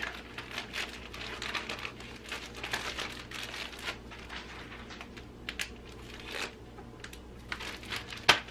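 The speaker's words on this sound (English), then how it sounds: "So we're going to put these Clorox wipes in the Ziploc bag." Clorox wipes are pushed into a plastic Ziploc bag, giving faint, close crinkling and rustling with scattered soft taps.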